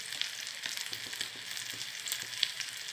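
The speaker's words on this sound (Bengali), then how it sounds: "সেটাকে পিস করার পর আমি ভালো করে ফ্রাই করে নেব" Pieces of egg fry in a pan with a steady, close sizzle and small crackles and pops throughout, and no one speaks.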